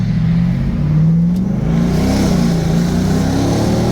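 A 2023 Ram TRX pickup with an AWE aftermarket exhaust revs and accelerates loudly up close on a road, its deep exhaust note rising and falling in pitch while the truck moves along.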